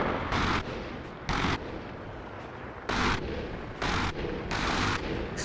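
Minigun fire in the video game Arma Reforger comes in five loud, roaring bursts of roughly half a second each. Distant rumbling fills the gaps between them.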